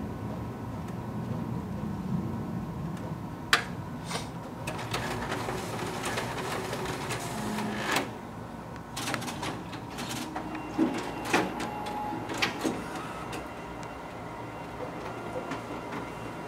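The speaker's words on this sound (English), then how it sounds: "And here we have our copy stapled and hole punched through the document feeder." A Xerox WorkCentre 7830 copier copies, staples and hole-punches a document. Quiet mechanical whirring runs throughout, broken by intermittent clicks and soft thumps.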